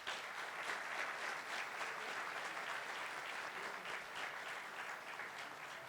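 Sustained audience applause at a technology panel of a forum in a hall, steady and dense clapping from a sizeable crowd lasting several seconds without pause, no talk over it.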